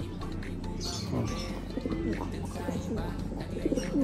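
Tame pigeons nearby giving low soft coos amid a flutter of wings as they take off, with people talking over them.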